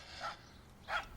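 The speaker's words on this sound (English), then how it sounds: "Shut that dog up." A dog barks twice, about half a second apart, in the FMV game Tender Loving Care; the barks are fairly faint and sharp, with a quiet background between them and no talking.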